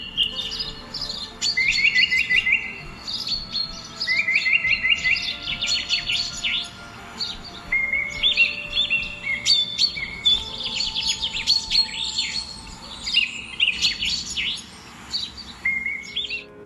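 Birds chirping and trilling near a pagoda in Hanoi, where captive birds are released, with dense repeated high tweets nearly nonstop and fairly close.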